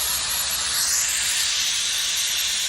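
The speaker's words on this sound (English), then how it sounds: "some steam is coming out on the end" Hot steam hissing steadily out of the end of a pipe while an inversion lining cures, a loud continuous broadband rush that holds for the whole stretch with no voices.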